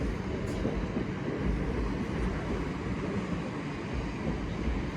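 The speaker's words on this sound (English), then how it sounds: "We've got another pair of South Western Railway 450s down there waiting to come through" Paired South Western Railway Class 450 electric trains rumble steadily through Clapham Junction, giving a continuous broad roar of moderate loudness with no speech over it.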